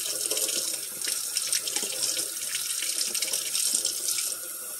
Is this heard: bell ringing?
no